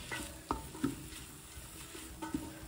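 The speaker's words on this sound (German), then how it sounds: "Gescheit umrühren, das ist immer wichtig" Spoon stirring a pot on a stove in an outdoor kitchen, with a few distinct scrapes and knocks over a faint steady sizzle, close and fairly quiet, no voices.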